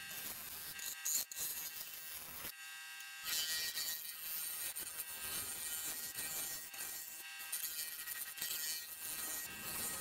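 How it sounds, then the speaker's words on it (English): A wooden bowl's bottom being shaped on a lathe, giving a steady, close buzzing whine from the spinning wood and machine. The tone is broken by brief scraping cuts and short pauses. "I'm starting to shape the bottom of the bowl."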